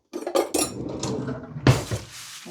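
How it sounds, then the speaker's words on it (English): Metal cutlery rattles and clinks against dishes in a kitchen while sausage rolls are prepared, a quick cluster of sharp clinks followed by a louder clatter near the end. "So I've got to get a knife out."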